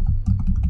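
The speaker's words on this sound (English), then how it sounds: "the first line of that file, we will type as node" Several quick, close keystrokes on a computer keyboard, a short burst of crisp clicks typing a line into a .gitignore file.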